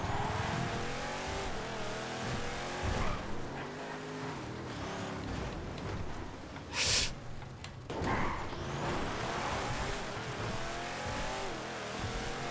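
An Impaler drag car in GTA FiveM revs loudly and continuously, its engine note climbing and shifting through gears, with a brief sharp burst midway and no talking.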